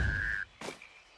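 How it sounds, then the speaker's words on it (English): Toads croaking as they die in the video game Albion Online, a short steady croak that cuts off and is followed by a brief burst of noise and fainter tones, no talk. "I can feel all the toads dying before me"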